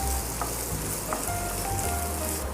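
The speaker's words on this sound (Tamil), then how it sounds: "பச்சை மிளகா கொஞ்சம் வதக்கிக்கலாம்." Green chillies and onions sizzle steadily in a hot pan, a continuous close frying crackle with a few soft stirring scrapes and no talking.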